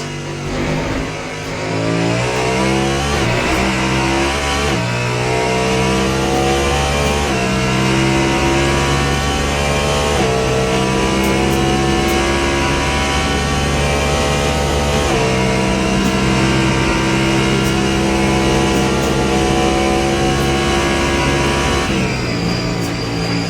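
Onboard engine of the number 3 Cadillac prototype race car at Le Mans in Le Mans Ultimate, loud and steady, its pitch climbing through the gears and dropping on downshifts under braking, with no voices over it.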